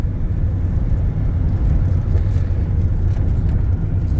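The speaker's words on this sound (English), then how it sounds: "We are test driving Peugeot Boxer 2019 vehicle" A 2019 Peugeot Boxer van on a test drive along country roads after a DPF and NOx sensor fault repair, steady low engine drone and road rumble heard from inside the cab.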